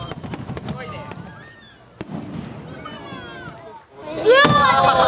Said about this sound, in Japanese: 夜になるとお楽しみの花火です